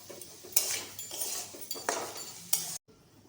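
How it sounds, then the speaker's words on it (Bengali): A metal utensil scrapes and clinks against a pan in repeated stirring strokes through fried rice, with a faint sizzle underneath, then a sudden cut to silence. "আমি একটু ভাতটাকে নাড়িয়ে নিচ্ছি"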